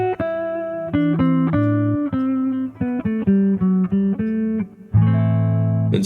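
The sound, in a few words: guitar playing in the Dorian mode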